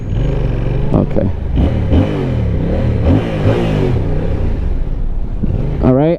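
A motorcycle on its stock exhaust revs close by, its engine note sweeping up and down in repeated loud throttle blips, then climbing sharply in one final rev before cutting off.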